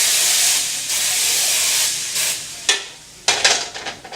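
Butter spray lands on a preheated griddle and hisses and steams in a long bright rush, followed by two sharper sizzling bursts, all close and loud, with no talk.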